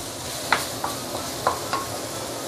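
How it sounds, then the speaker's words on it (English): Chili paste made from soaked dried chilies cooks over medium heat in oil, giving a steady low sizzle broken by a few soft scrapes and taps of a spatula stirring the pan. "use medium heat to slowly saute this for a couple of minutes"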